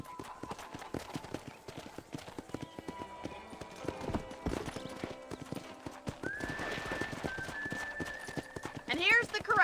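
Horse hooves clip-clop repeatedly in Red Dead Redemption, with a horse neighing and whinnying near the end, over game ambience and speech.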